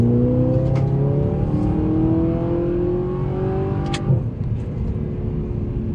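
Audi R8 sports cars on a morning group drive, one engine close by revving up through rising tones, then a sharp change in pitch before it settles into a lower, steady drone.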